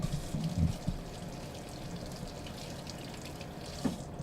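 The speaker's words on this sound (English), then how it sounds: "give it a quick rinse with cold water." Steady running cold water from a tap splashes continuously, with a few brief clunks of chicken breast being rinsed under the stream.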